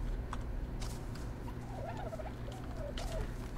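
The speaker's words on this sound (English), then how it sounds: "You stupid bird." A bird in ARK: Survival Evolved calls in a gobbling, warbling run of short chirps over a constant low game hum, fairly faint and set against the background noise.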